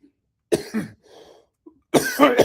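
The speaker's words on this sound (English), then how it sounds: "still got a cough from my trip to the UK" A man coughs twice, short harsh bursts close to the microphone, with a faint throat sound between them, lingering from a cough caught on a trip to the UK.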